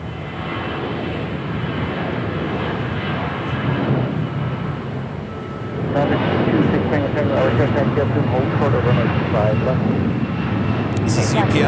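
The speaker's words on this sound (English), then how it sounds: "got the UPS 767 looking like a departure on 25 left" A UPS Boeing 767-300ER departs runway 25 left at Los Angeles International Airport, its engine roar building to a louder, broad rumble halfway through, with someone talking over the noise.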